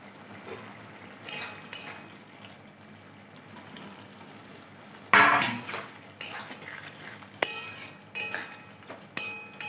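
Soybean chunks mixed into boiled potato in a pot, with intermittent clinks and knocks of a spoon against metal and soft wet shuffling between them, fairly quiet overall.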